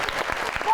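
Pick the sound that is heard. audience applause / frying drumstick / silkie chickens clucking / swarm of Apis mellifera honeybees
audience applause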